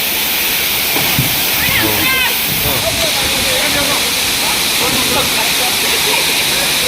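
Steady, loud rushing hiss of the Hurnatso waterfall in Karbi Anglong, a broad constant roar of falling water close by, with people talking over it throughout.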